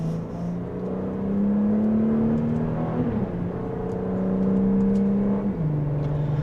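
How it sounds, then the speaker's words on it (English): A 2026 Audi S5 in dynamic mode accelerates in second gear, its engine note rising steadily, dipping at a shift, then climbing again in a smooth, moderate whir heard from inside the cabin. "And just a mild acceleration, we're up to speed."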